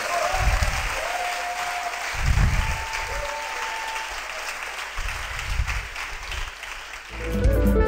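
A church congregation claps for the Lord in loud, sustained applause, with a few deeper rumbling swells beneath the dense patter of hands.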